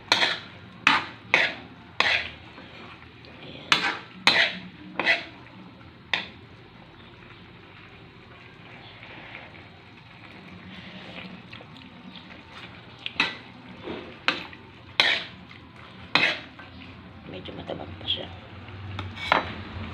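A metal utensil stirring and scraping in a pan while a home cook sautés a dish, making a run of sharp clanks at the start and end and quieter shuffling in between. Someone talks in the background.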